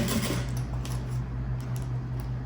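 A sewing machine stitches a crossbody bag in a steady, close mechanical whir with a low humming drone, continuous and unbroken, with faint clicks near the start.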